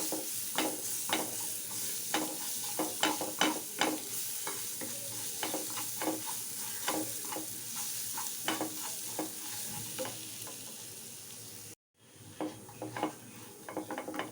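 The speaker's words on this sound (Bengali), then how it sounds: "এবার এর মধ্যে দেব হাফ টেবিল স্পুন রসুন। এটা একটু সতে করে নেব।" Garlic and whole cumin seeds sautéing in butter in a pan, a soft continuous sizzle broken by repeated sharp scrapes and clinks of a spoon stirring, with a brief dropout near the end.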